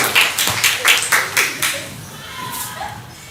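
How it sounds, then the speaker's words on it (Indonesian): A classroom of students claps for a classmate after a correct answer: a short burst of quick, fairly loud claps that quickly thins out and fades over a quiet room. "tepuk tangan untuk Nadia Sapitri."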